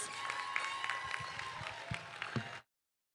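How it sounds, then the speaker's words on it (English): A modest audience at an eighth-grade commencement at an Adventist school claps for the graduates, with scattered, fairly close hand claps that continue for a couple of seconds before cutting off abruptly. "Let's give our graduates another round of applause."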